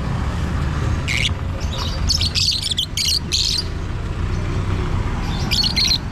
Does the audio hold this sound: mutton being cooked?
no